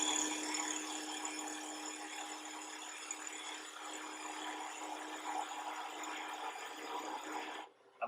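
A woodturning tool cuts into spinning wood on a lathe, giving a continuous close, airy scraping hiss that runs steadily for several seconds before cutting off abruptly near the end.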